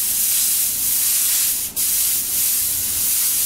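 Airbrush spraying paint for sign lettering gives a steady, close hiss that runs almost unbroken, with one brief pause midway before the spray resumes.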